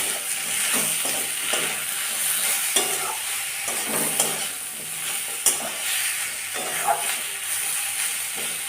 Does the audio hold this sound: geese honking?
no